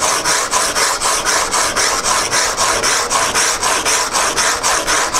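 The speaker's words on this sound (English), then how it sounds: "hold the chisel flat on the surface and just simply start rolling back and forth" A steel chisel is rubbed back and forth on 150 grit abrasive, giving a rhythmic rasping scrape that repeats about four times a second, close and steady throughout.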